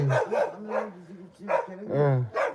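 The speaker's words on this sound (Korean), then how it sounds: "저놈이 왜 저리 짖어" A dog barks and yelps repeatedly outdoors on a freezing winter morning at minus ten degrees, close and loud, in uneven bursts with whining tones between barks.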